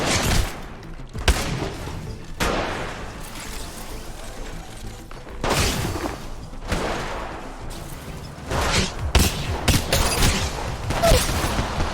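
Grenade explosions and gunfire in the battle royale game Apex Legends Mobile during a shotguns-only match: several heavy booming blasts and bursts of shots spread across the stretch, loud and close, with little talk.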